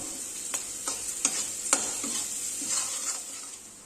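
Onion, carrot and green peas fry in a pan at home under a soft constant sizzle, with a handful of spatula scrapes and taps spaced about half a second apart, quiet and close.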